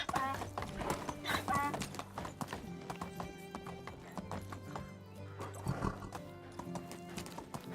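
A horse trots along in the medieval village-building game Medieval Dynasty, its hooves clip-clopping in a steady rhythm with a whinny or two, while a voice talks over the gameplay.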